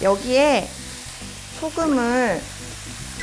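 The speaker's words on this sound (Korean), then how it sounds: "소금물을 샥 부어요" Salt water is poured into a hot pan of cooking food for a diet recipe, giving a steady, close hiss and sizzle throughout while a person speaks over it.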